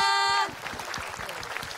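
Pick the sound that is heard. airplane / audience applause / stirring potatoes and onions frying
audience applause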